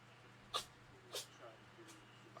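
Two short, sharp sneezes come about half a second apart from someone nearby, followed by a fainter third burst, all set against a low steady room hum.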